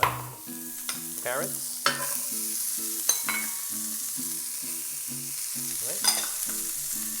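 Carrots and garlic sautéing in avocado oil over medium-high heat give a steady sizzle, broken by several sharp stirring scrapes and knocks of a utensil against the pan, with background music running throughout.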